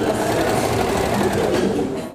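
A sewing machine in a women's sewing project runs steadily, giving a close, continuous mechanical whir with a fine rhythmic texture that cuts off at the end.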